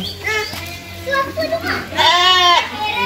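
A goat at an animal village petting farm near Sungkai, Perak bleats loudly and close by, a wavering cry rising over a background of people chatting and children's voices.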